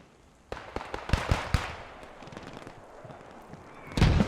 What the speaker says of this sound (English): A nice grenade there from someone.